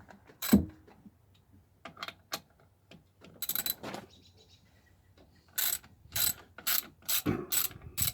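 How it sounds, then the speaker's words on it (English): Ratchet wrench clicking in short bursts while undoing bolts on a 2005 Subaru Outback during oil pan replacement, close and crisp with pauses between sets of rapid clicks. "we can undo some bolts in the back here and one bolt down here."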